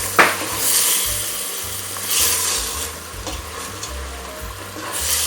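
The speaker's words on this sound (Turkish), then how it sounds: "Kavuruyorum." Red pepper flakes and black pepper sauté in oil in a pan, a close and fairly loud sizzle with repeated stirring and scraping strokes, no voices.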